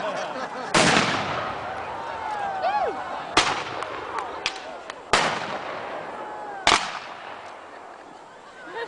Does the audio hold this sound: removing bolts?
no